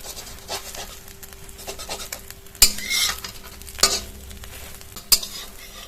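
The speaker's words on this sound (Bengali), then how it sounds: "উল্টে পাল্টে ভেজে নেব।" Egg pieces frying in oil sizzle steadily while a utensil stirs and turns them, with several sharp scrapes and clinks against the pan.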